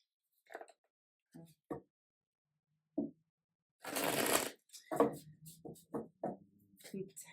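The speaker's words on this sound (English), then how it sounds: "Just shuffling because I feel like it." Close, brisk riffling of a deck of tarot cards in a short burst, with scattered taps and soft handling sounds around it, no talking.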